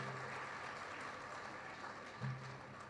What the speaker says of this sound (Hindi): तालियां इन पदाधिकारियों के लिए होनी चाहिए